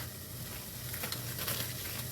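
Thin-shaved ribeye steak sizzling in a hot pan, a steady close hiss and crackle of frying with no voices.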